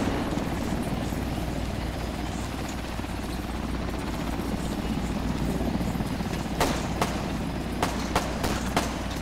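CH-49 transport helicopter in a military video game, a steady loud rotor drone with low throbbing that holds throughout, joined near the end by several sharp broadband clicks or shots, with no talk.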